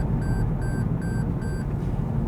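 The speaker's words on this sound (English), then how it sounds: "you will get your lane departure beeping at you" Four evenly spaced electronic lane departure warning beeps repeat over a steady low road rumble from inside a moving Toyota GR Yaris.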